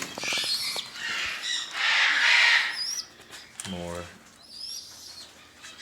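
Rescued pigeons and wild birds in cages at a bird rescue, giving scattered squawks, chirps and calls at close range, with cage-cleaning noise and brief talk mixed in.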